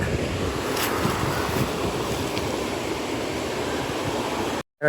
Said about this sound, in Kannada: ನೀರೆಲ್ಲ ಆ ಚೆಕ್ ಡ್ಯಾಮ್ ತುಂಬಿ ಸುತ್ತ ಹರಿದು ಹೋಗ್ತಾ ಇದೆ